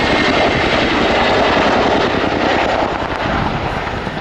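A roughly 15-ton display aircraft at an air show produces a steady, loud, broadband engine roar that holds constant throughout without any voices.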